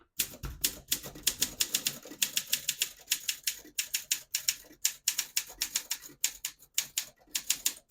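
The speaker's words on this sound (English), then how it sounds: "I'll type a sentence in red on the next line and switch from black to red." Rapid, crisp keystrokes clatter on a 1958 Olympia SM3 portable typewriter typing in red ribbon, bursts of sharp clicks in quick rhythmic runs with brief pauses between words, close and clear with no talk.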